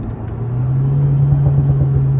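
Alpine A110 sports car accelerating, a steady close engine drone with a strong low hum that rises slightly, with small throttle pulses near the end; no voices.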